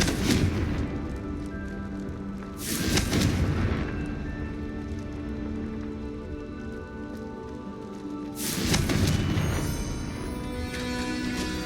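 Confringo fire spells blasting in the wizarding video game Hogwarts Legacy: two loud, broad explosive booms a few seconds apart, each swelling and rumbling over a steady hum of game ambience and music.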